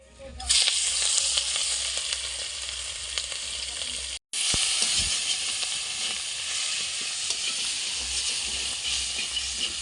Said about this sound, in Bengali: এবার চিংড়িটা তেলের মধ্যে দিয়ে দিচ্ছি